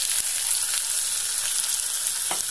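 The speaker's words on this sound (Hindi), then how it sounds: "तेल हमारा गर्म हो चुका है, इतने हमारी चाप मैरिनेट करके रखे हैं, इतने हम प्याज को ब्राउन कर लेंगे" Onions browning in hot oil inside a pressure cooker, a steady dense sizzle and crackle that holds close and even throughout, with no voices.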